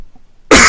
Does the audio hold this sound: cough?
yes